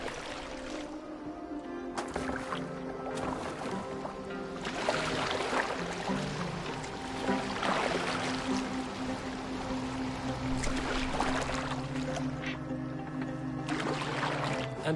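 Boat moving over water in Assassin's Creed Valhalla, with steady splashing and trickling throughout, swelling in louder surges amid a layered game soundscape and a low sustained musical drone.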